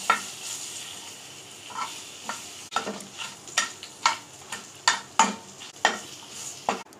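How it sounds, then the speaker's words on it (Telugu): Dried red chillies and tamarind stirred in a hot pan for nallerу pickle, with a soft frying sizzle under repeated scraping and clinking strokes of a spoon against the pan in an uneven rhythm. "ఎండుమిరపకాయలు దూరగా ఫ్రై అయిన తర్వాత ఇందులోనే చింతపండును కూడా జస్ట్ వేడి తగిలితే చాలండి."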